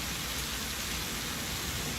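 Rain falls steadily in the video game Satisfactory, a dense, even wash of drops with a faint low rumble beneath, continuous and fairly loud throughout, with no voices.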